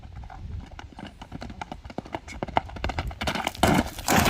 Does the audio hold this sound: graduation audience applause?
no